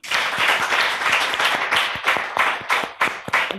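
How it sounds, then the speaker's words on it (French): An audience applauds with brisk, dense clapping that holds steady for a few seconds, close and fairly loud, with no speech over it. "on applaudit pour lui"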